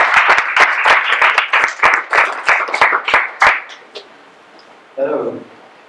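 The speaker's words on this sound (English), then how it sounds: "first a round of applause for Hector" Applause from a small audience at a coworking talk, a burst of individual, sharp claps that thins out and stops after a few seconds, followed by a short bit of speech.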